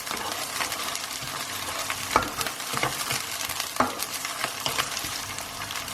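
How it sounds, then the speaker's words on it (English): Ginger garlic paste frying with onions in a pan, a steady close sizzle broken by a few scraping stirs and sharp knocks of the spoon, with no talk. "So I'm going to add my ginger and garlic paste. Mix that through for a minute or so."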